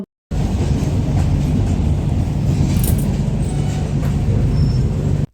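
The 12343 Darjeeling Mail passenger train runs at night out of Kolkata, heard from inside as a loud, continuous rumble of wheels and carriage noise, with faint metallic rattles.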